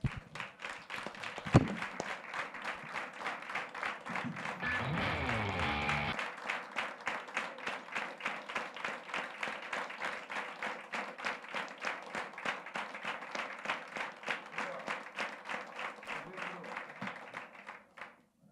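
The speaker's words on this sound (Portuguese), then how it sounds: "nós vamos dar uma salva de palmas para Jesus" A standing church audience claps for Jesus at an annual conference, a dense, steady round of applause with rhythmic clapping that fills the whole stretch, loud and close, with a few voices and a brief thump near the start.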